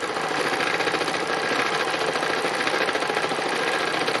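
A sewing machine stitches through fabric in a steady, fast mechanical chatter, loud and close and running without pause, with no voices.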